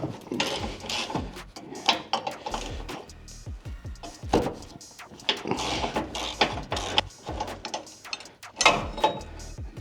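A socket wrench with a 15 mm socket works bolts while a tow hook is installed on a Ford F-150 Tremor, giving irregular close ratcheting clicks and clanks of metal parts in uneven bursts.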